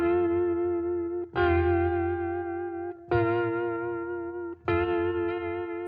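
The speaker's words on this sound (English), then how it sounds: "So this is what vibrato sounds like." A guitar runs through a pedal's vibrato modulation, four sustained chords, each pitch wavering in a steady, even wobble while it rings out, close and alone.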